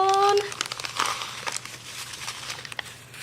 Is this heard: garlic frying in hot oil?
no